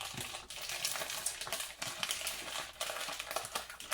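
Someone opening a package of applewood smoked bacon with spices, with quiet close crinkling and tearing of plastic wrap in quick irregular bursts.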